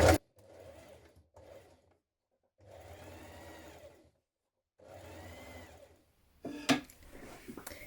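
A sewing machine understitches a facing seam a few millimetres from the edge on a dress bodice, running in four separate bursts with short pauses between them, close and clear, ending in a few louder handling clatters.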